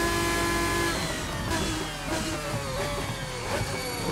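In Assetto Corsa, a Celine GT race car engine revs and changes pitch as it drives at Sarthe, Le Mans, close and steady among other racing engines.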